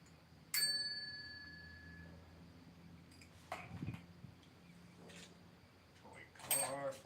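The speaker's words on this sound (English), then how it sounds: "Can you hear the bell?" A bell rings at a night investigation at Fort Monroe, with sharp, bright metallic tones near the start and again near the end, separated by quieter stretches holding faint rustles and low hum.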